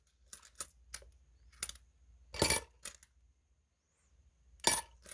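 Metal coins clink and drop as they are sorted and handled for a collection of 100-won pieces, with scattered sharp clatters and two louder bursts of jingling, close up and with no talking.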